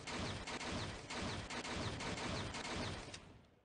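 Rapid, dense bursts of gunfire from the Fahrenheit: Indigo Prophecy video game, loud and continuous for several seconds with sharp repeated cracks, fading out at the end; no talking.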